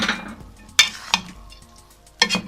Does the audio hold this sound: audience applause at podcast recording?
no